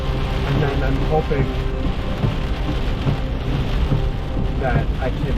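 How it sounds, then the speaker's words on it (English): Heavy rain drums steadily during a thunderstorm in Alabama, with low thunder rumbling beneath it while a person talks close by inside a car. "seek shelter for a while until the storm passes."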